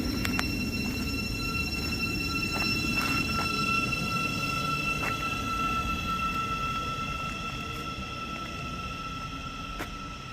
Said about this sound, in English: leaving now is going to be the Thameslink service to Peterborough